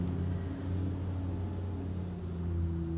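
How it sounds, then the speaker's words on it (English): Steady low rumble of a loud bus interior, a continuous droning engine hum with no breaks, heard close and filling the whole stretch. "The bus is loud."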